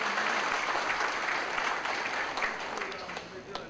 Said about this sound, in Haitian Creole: On nous battons gros applaudissements pour ça.